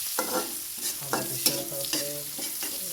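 Spices sizzle in a small amount of oil for a hilsa fish and pumpkin dish, with a steady frying hiss broken by several stirring scrapes and clinks, close up and with no talk.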